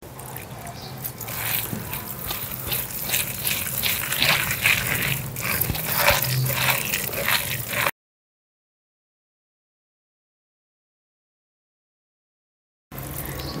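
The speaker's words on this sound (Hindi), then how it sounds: "अब हमें पानी की थोड़ी सी ज़रूरत होगी।" Water trickles and splashes into gram flour batter for onion pakoras, a soft continuous pour with faint stirring for about eight seconds before cutting to silence, then resuming briefly.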